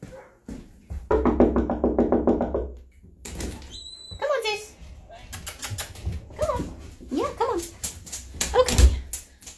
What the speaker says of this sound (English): I need to go let my dog in because he's kind of being crazy